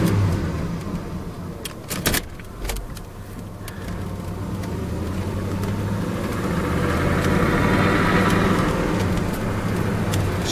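A 1977 Pontiac Bonneville Brougham with an Olds 403 engine cruising at about 40 mph, heard from inside as a low, steady engine hum and road rumble after a couple of sharp clicks. The drone swells slightly near the end.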